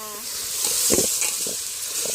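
Vegetables for a vegetable khichdi frying in a hotel kitchen, a loud, continuous close sizzle with brief stirring bursts.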